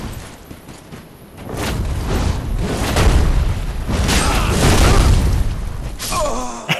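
A Quakestone Hammer weapon art finishing blow in Dark Souls 3 PvP, with loud booming impacts and rumbling crashes that swell over several seconds, then a sharp closing hit, with no talk.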